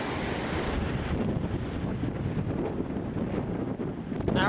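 Waves crashing at a deserted, windy Bondi Beach in Sydney, a constant rushing roar of surf with rough wind noise battering the microphone, unbroken throughout and without talk.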